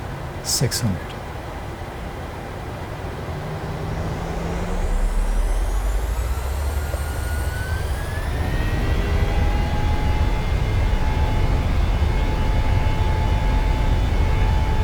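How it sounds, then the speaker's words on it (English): Boeing 737-600 jet engines in Microsoft Flight Simulator spool up for takeoff into a loud, steady roar that builds over several seconds, with rising whine tones climbing in pitch as thrust increases. "let's take a listen to the engine sounds taking off in the PMDG 737-600"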